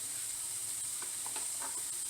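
Seitan paprikash simmering in a pan after the wine has cooked off, a constant soft sizzle and hiss with a few faint stirring scrapes, close and steady.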